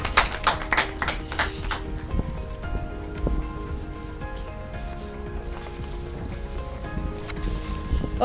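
An audience at a children's day spelling bee breaks into loud, dense applause that fades to scattered claps and room murmur, then swells briefly again at the end.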